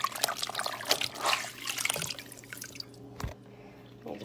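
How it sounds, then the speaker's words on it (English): A sponge is soaked in hot water, with close, irregular drips, trickles and small splashes that gradually thin out. "I'm gonna soak this in my hot water really quick."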